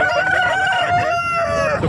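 An Aseel rooster crows loudly and close at a poultry market in Nellore, one long drawn-out call with a falling tail.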